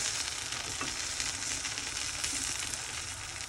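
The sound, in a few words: jowar rava dosa roasting in oil on a pan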